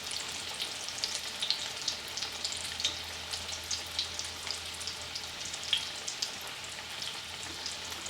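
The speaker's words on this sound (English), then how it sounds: "I can hear them sizzling, but I can't see them from this angle." Green tomatoes frying in a pan, a steady close sizzle and crackle with small popping spatters throughout, with no talking.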